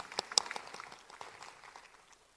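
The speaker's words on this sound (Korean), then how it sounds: "박수 한번 주시죠" An audience at a Kangwon National University presidential candidate policy debate gives a faint, thin round of clapping, a few distinct claps at the start fading quickly into scattered, quiet patter.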